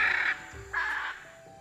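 Wild rosy-faced lovebird parrots give two harsh, shrill calls in quick succession, each lasting about a third of a second and separated by a short pause, heard at moderate distance.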